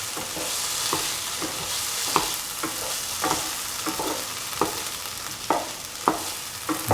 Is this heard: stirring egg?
yes